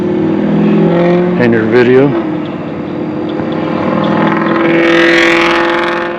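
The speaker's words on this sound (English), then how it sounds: "Nothing like a loud diesel truck in your" A loud diesel truck engine rumbles steadily near a lakeside dock throughout, a brief voice cutting in early and the engine note swelling toward the end.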